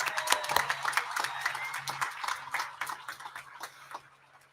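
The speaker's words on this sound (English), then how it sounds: "Let's give them a round of applause." Applause at a high school graduation ceremony, scattered hand clapping that thins and fades out over a few seconds, with a faint steady hum underneath.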